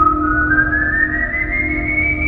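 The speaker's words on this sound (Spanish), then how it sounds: "El silbido llenó el aire, pero esta vez no se apagó." A single eerie, sustained whistle, one long tone slowly gliding upward in pitch, clear and close over a low background rumble.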